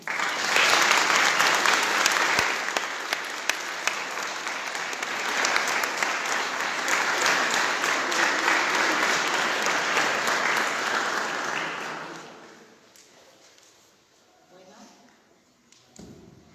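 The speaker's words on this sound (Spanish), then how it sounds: "le damos la despedida y un fuerte aplauso otra vez" An audience claps at the close of a talk on addiction prevention, with a long, full round of applause and a few thumps that fades out near the end, followed by quiet voices.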